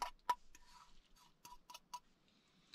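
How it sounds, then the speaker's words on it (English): Microwave oven heating tofu, with soft intermittent ticks and clicks from its timer over a quiet background, heard in a camping setting. "Here is my microwave."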